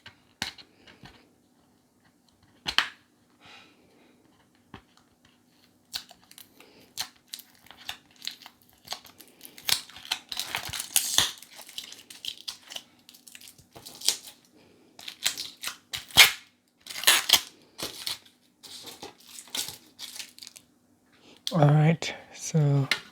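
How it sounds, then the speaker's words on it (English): Tape peeled off a package holding an iPhone privacy glass screen protector, then the box opened: bursts of crinkling, tearing and crisp rustling in scattered clusters, close up, with a voice speaking over parts of it. "It is actually tape around the package. So I'm just going to open it up right here."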